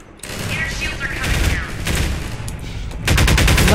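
Rapid automatic gunfire in Half-Life 2 rattles loudly and continuously, dense bursts of shots layered with mechanical clatter, growing heavier toward the end.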